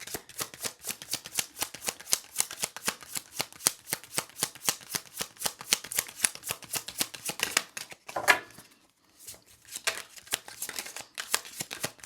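Tarot cards are shuffled in a long run of rapid, crisp riffling flicks close to the microphone, broken by a brief slide and pause as cards are drawn, then more flicking.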